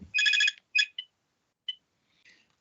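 A mobile phone rings in a meeting room with a few quick electronic ringtone bursts, then a couple of short beeps and fading tones, fairly clear against silence.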